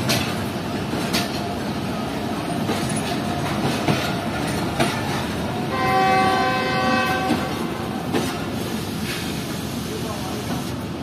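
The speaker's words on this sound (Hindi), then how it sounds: "तो ये हमारी ट्रेन ने भी चलना शुरू कर दिया घोटकी रेलवे स्टेशन से" A Baba Fareed Express train pulls out of Ghotki railway station, its horn sounding a long steady blast in the middle of continuous rumbling and rattling carriage noise, with a few faint voices nearby.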